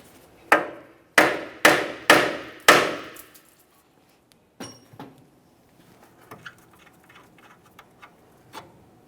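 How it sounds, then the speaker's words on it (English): A hammer lightly taps the steering knuckle of a 2010-2013 Kia Forte Koup during steering rack and pinion bellow replacement, five sharp metallic knocks in quick succession, then a few fainter scattered clinks. "To do this, lightly tap on the steering knuckle itself, causing vibration."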